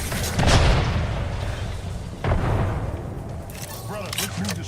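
Grenade explosions in a video game: two heavy booms about two seconds apart, followed by scattered crackling gunfire, with voices on top.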